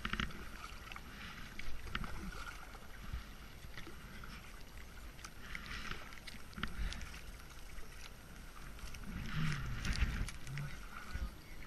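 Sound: kayak paddling on water

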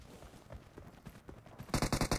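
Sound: gunfire in PUBG Mobile video game

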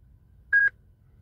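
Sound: Tech2 diagnostic tool beeping while initializing

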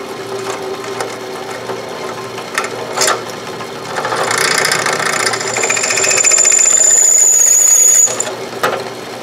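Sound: drill press drilling a key

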